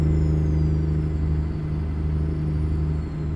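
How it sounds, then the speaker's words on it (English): A deep, steady 14-liter Kenworth W900 truck engine in American Truck Simulator rumbles continuously, a low throaty exhaust drone holding even throughout with no voices. "The 14 liter in this truck, this engine mod, has a lot more exhaust note."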